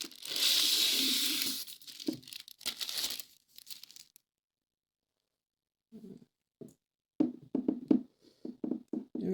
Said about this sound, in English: Then it seems like it has a protective plastic bag.